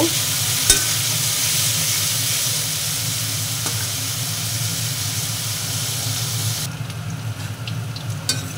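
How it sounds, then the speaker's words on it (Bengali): Potatoes fry in hot oil with a loud, continuous, close sizzle, a dense hiss that holds steady throughout, with a couple of faint clicks and a slight dip near the end. "আলুটা ভাজা ভাজা হয়ে যাচ্ছে"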